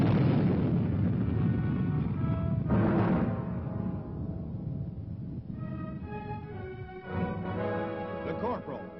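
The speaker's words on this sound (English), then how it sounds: "The recently developed La Crosse, a highly accurate all-weather guided missile for use by troops in the field" A La Crosse all-weather guided missile for field troops fires and explodes, giving a dense, roaring blast with a sharp burst partway through and a sustained rumble that fades. The sound is thin and band-limited, like old film audio.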